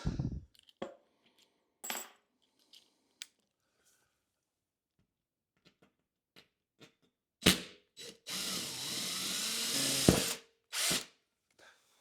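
A power drill drives screws through sheet metal while hanging 8-foot LED shop lights, with short bursts and a long sustained whine near the end, plus scattered clicks and taps between runs.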